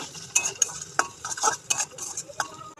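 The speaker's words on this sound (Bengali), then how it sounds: "এটা একটু নাড়বো" A spoon stirs soybean and potato curry with spices in a pan over a low flame, making a quick series of close scraping clinks and light taps with a faint sizzle beneath, fairly loud and with no voices.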